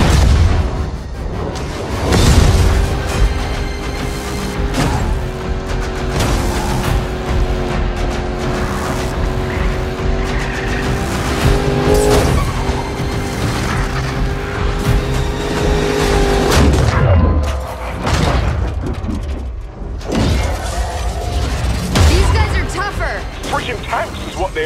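Cars race with roaring engines and heavy crashes in the video game Need for Speed Payback, loud and continuous, with booming impacts, engine whine and soundtrack music under voices talking.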